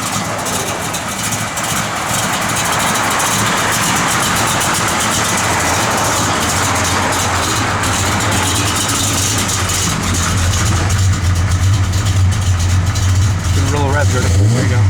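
A 1966 Chevrolet Malibu V8 with an aggressive cam idles loudly and close, its lopey, uneven burble running steadily throughout with a slight rise near the end.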